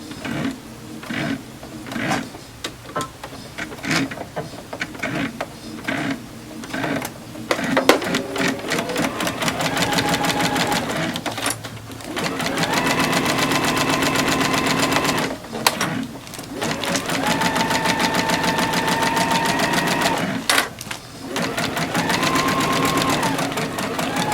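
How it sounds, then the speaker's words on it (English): A sewing machine chain-stitches quilt fabric pieces one after another in long, steady runs of rapid mechanical clatter, broken by brief pauses between pieces. "I'm just going to chain stitch this"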